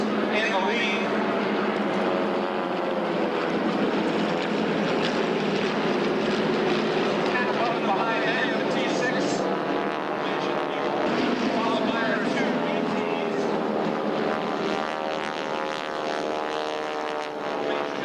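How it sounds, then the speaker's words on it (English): T-34 propeller airplanes flying in formation at an air show, a continuous loud engine drone with shifting tones, heard under steady announcer talk. "this is a beautiful demonstration of formation flying that we're getting today. The T-34 pilots in the lead."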